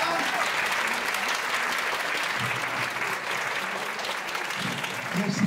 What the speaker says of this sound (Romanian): în aplauzele dumneavoastră